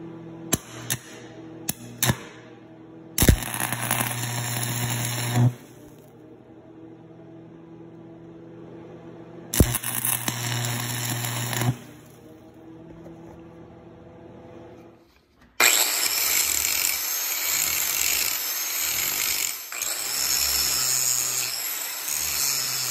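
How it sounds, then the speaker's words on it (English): A power tool grinds on a vintage metal vise in repeated loud bursts of harsh, hissing abrasion, several separated by quiet pauses, ending in a long sustained grind close to the listener. "I might try to grind this a little bit smoother"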